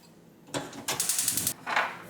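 Ingredients stir-fried in Korean sesame oil in a wok over low heat, bursts of sizzling and rattling as they are tossed, loud close hissing in short spells between quieter gaps.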